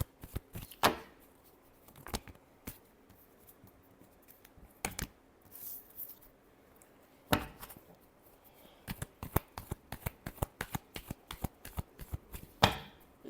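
Tarot cards being shuffled by hand in quiet surroundings, sounding as sharp riffling snaps spaced irregularly at first and then coming in quicker clusters near the end, close up with no talking.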